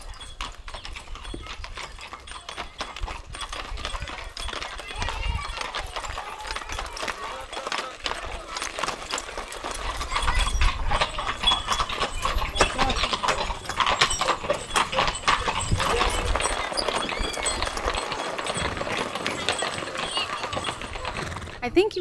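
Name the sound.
horses clip-clopping past on a village road in Viscri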